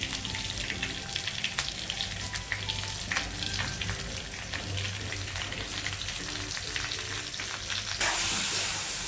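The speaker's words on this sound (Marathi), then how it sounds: "मस्त मसाल्यामध्ये परतून घ्यायचे आहेत सगळे वांगे." Stuffed eggplants sautéing in masala in a pan, a continuous close sizzle with crackling spits and occasional scraping stir sounds, growing into a louder hiss near the end.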